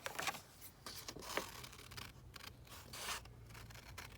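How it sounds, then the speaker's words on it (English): Scissors snipping through paper for a junk journal page, a run of quiet, close cutting strokes with short pauses between them and no voices. "So let's just cut that down."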